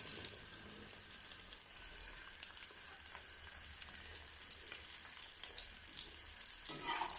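Okra, washed, dried and cut, hisses and sizzles in hot oil, a steady crackling fry with faint spatters, close up and alone.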